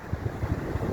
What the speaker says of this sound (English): It's quite windy, so apologies if my sound isn't great